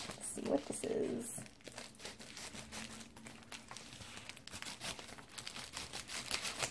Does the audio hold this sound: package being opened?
yes